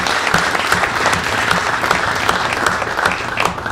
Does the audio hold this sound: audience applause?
yes